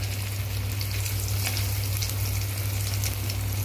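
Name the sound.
mustard oil heating for frying potato lollipops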